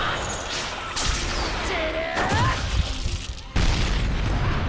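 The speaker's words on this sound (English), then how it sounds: "And there was an explosion." A video game explosion booms out, a loud burst with crashing debris and rumble followed by a second heavy impact near the end, with some voices and game sounds around it.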